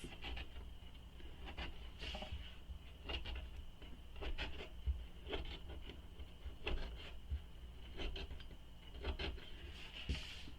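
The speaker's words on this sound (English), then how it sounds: "So cutting the slits." Scissors snipping slits into bag fabric, a faint series of short crisp cuts in an irregular rhythm against a quiet background.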